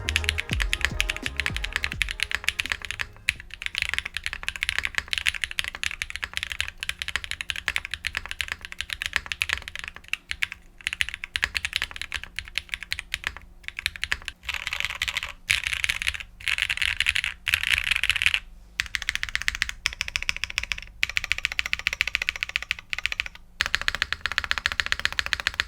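A Mode Tempo mechanical keyboard with case foam is typed on steadily for a long stretch, producing a close, dense stream of muted, dampened keystrokes with occasional brief pauses and a thumpier spacebar.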